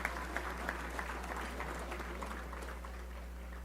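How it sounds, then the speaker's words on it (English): Faint, distant audience applause, a steady patter of many hands over a low electrical hum, with no voices. "let's give him a round of applause for making it 10 years"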